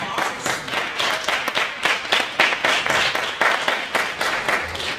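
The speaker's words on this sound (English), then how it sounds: "If we give them a round of applause." Audience applause for board members standing at a Head Start Sneaker Ball in a hall, a steady, fairly loud wash of many hands clapping throughout.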